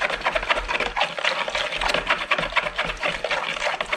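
A melt and pour soap colour mixture is stirred by hand, giving a steady run of soft liquid swishes and light scraping against the container, close and unbroken, with no talking.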